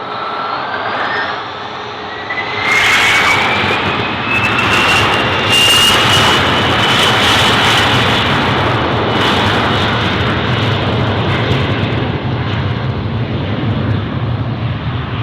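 A Lufthansa CityLine jet airliner takes off at Munich Airport bound for Cologne, a loud sustained engine roar with a rising whine that swells after a couple of seconds and holds steady.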